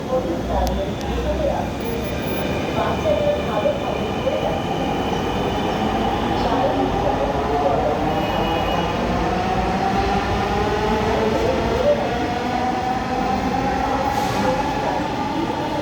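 A Dhaka metro rail train at Mirpur 10 station makes a loud, continuous rumble with rising electric motor whine as it pulls away, filling the whole stretch close by.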